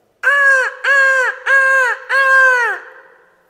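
A crow cawing four times in a row, loud and close, each harsh caw evenly spaced and trailing off at the end, with no other sound around it.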